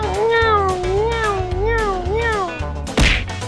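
A cat meows repeatedly inside a GTA game, with several wavering, drawn-out cries over steady in-game background rumble and a sharp thump near the end.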